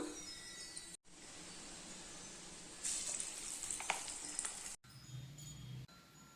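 Banana flower vada frying in hot oil, a steady close sizzle that surges louder and hisses brighter for a couple of seconds when a fresh batch goes in, then settles again.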